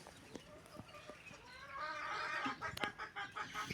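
Chickens and a rooster in a backyard flock cluck and chatter at moderate distance, growing busier and louder midway, with no talk over them.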